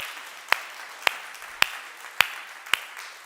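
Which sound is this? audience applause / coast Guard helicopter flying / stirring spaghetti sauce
audience applause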